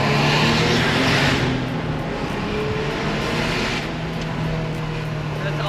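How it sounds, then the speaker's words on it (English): A Porsche 993 Turbo engine car drives past with a quiet, steady whooshing rush of engine and road noise, louder at first and then easing off. "love the speed from the 993 turbo engine, but the sound is really something we have to work on"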